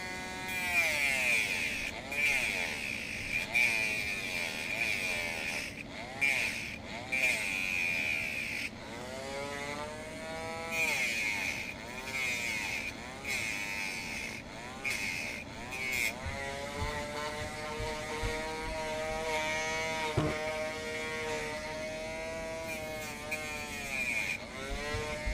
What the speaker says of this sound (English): So before the Dremel dies, let's cut out, this will be a little easier, let's cut this center piece of these bars out.